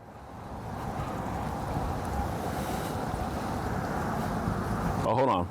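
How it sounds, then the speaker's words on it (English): Street traffic rumbles steadily outdoors while wind buffets the microphone, a loud, continuous roar that swells slightly toward the end. "We got traffic, we got wind"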